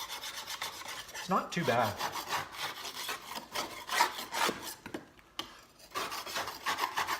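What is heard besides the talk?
scraping and cleaning a plastic lawn mower deck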